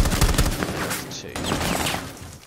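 Rapid gunshots from Rainbow Six Siege, loud and dense across the whole moment, with mixed in-game effects and little else between the bursts.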